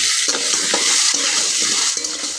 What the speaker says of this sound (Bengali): কাঁকড়াটা দিয়ে ভেজে নেব